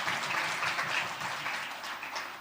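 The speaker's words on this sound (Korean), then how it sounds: "박수로 환영하겠습니다." A church congregation claps in welcome during a Sunday worship service, a fairly soft, even patter of many hands that gradually thins toward the end.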